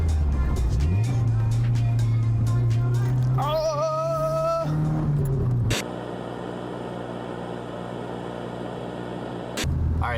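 A Nissan 240SX downshifts and accelerates, its engine droning low, then a quick rev blip rising in pitch before the note settles into a steady, quieter hum under way, heard from inside the car.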